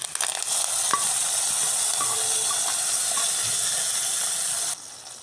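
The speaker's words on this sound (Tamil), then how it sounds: "இது இப்போ பொரிஞ்சோடனே கருவேப்பிலை சேர்த்துடலாம்" Mustard seeds, curry leaves, ginger and green chilli crackling and sizzling in hot oil for a pongal tempering, a steady loud frying hiss with scattered pops and a faint stirring clink, ending abruptly quieter.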